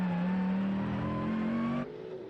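A Mercedes AMG GT3 race car's 6.2-litre naturally aspirated engine at Portimão holds a steady, high-pitched drone that rises slightly in pitch, then abruptly drops off as the throttle lifts near the end.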